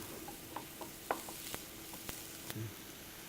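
Food being stirred in a pan while it softens for grits, a quiet steady sizzle with a few sharp scraping clicks of the utensil against the pan, close and without talk.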